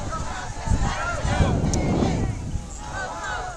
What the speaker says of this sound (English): It is a little overcast and windy. Hopefully my audio keeps up with the wind.